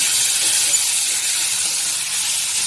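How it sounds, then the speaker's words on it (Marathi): Chopped spring onion and moong dal sauté in a hot pan, giving a steady, even sizzling hiss throughout with no talking. "आता कांदापात घालून आपण छान परतून घेऊया"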